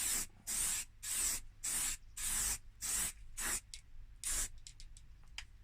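An aerosol spray paint can hissing onto a Nissan Almera N16 wheel trim in a series of short, even bursts, about eight in a row, then a few quick shorter sprays, close and steady.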